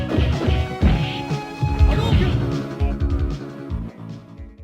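Rapid punches and kicks landing in Street Fighter II Turbo, a quick run of sharp smacking hits over busy game music, loud and close.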